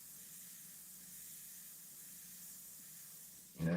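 An airbrush loaded with yellow paint, used to paint flames, gives a steady, soft, faint hiss of spray for several seconds, ending in a short louder bump.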